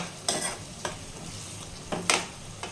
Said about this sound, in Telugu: ఇలా కలుపుతూ ఉంటే బాగా మగ్గుతుంది.